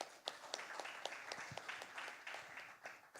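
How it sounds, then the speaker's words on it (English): Scattered applause from a conference audience in India, individual claps distinct and uneven, moderately distant and fairly quiet, with a faint voice under it. "a huge round of applause for Job before he begins"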